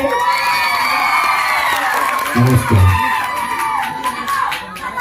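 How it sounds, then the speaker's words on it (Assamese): A live crowd at a comedy show by the PK comedy group cheers and shouts in a loud, continuous mass of voices, with a brief louder swell of whoops partway through. "তেখেতসকলৰ কাৰণে এটা জোৰদাৰ হাত চাপৰি।"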